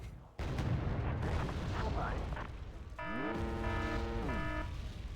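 Mortar fire in an armoured-vehicle video game: a sudden heavy boom opens into a long rumbling roll of explosions, followed by a rising and falling mechanical whine, with a voice talking over it.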